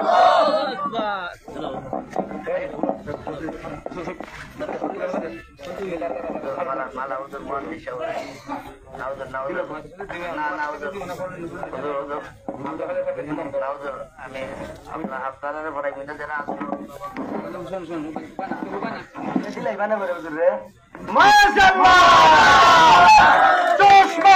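A crowd at a political rally roars back in unison to a call for takbir, a loud massed shout that swells near the end after a stretch of amplified speech over a PA.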